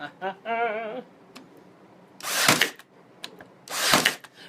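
Wooden farmhouse shutters being nailed: two sharp, loud bursts of fastening about a second and a half apart, with a short voice heard just before.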